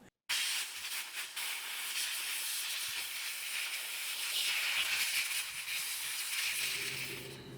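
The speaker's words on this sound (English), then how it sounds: "I'm gonna flip it upside down and I'm gonna blow the shavings out of it" Compressed air blasts steadily into an upturned 1970 Triumph TR6 transmission case to clear out metal shavings, a loud continuous hiss lasting several seconds with no talk over it.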